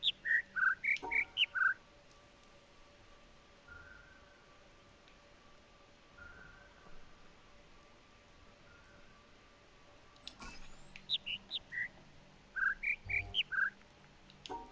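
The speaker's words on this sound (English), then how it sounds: "But I think I'm listening to the wrong fucking bird." Synthetic bird calls from a puzzle in The Witness: short, bright chirps in quick high-medium-low runs, one cluster at the start and more clusters near the end, with long quiet stretches and a faint steady hum between.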